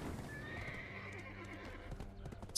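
Horse hooves clip-clop in the video game Black Desert, a regular trotting rhythm with a neigh over it, fairly close and moderately quiet, with no voices.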